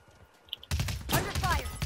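Gunfire in the battle royale game Realm Royale, a quiet start giving way to a dense, loud burst of rapid shots and impacts that continues to the end, with a voice talking underneath.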